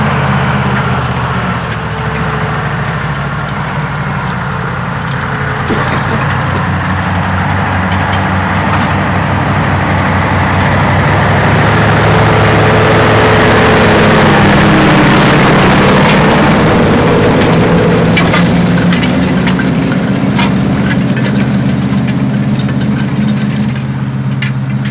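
A small homemade tractor built by hand runs at a steady idle nearby, a loud continuous low engine drone that swells slightly midway, with no talking.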